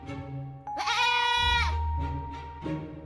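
A goat bleats in a cartoon story, one long wavering cry that rises and holds before trailing off into a few shorter bleats, close and clear with no talk.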